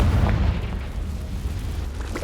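A Confringo blasting spell explodes in the Hogwarts Legacy video game, a heavy low boom that rolls into a sustained rumble, loud and close.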